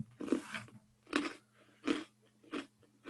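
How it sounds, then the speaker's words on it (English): Someone crunches food while chewing, close to the microphone. About four distinct crisp bites and crunches come at steady intervals, quiet and separated by short silences. "Just be glad the mic isn't like right in front of me because you'd hear nothing but crunching."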